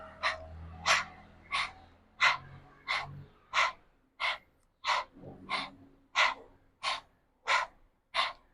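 Rapid, sharp panting breaths during a kundalini-inspired somatic exercise for releasing anger, about thirteen forceful exhales in a steady rhythm, close and clear, with faint low thuds of movement underneath and no speech.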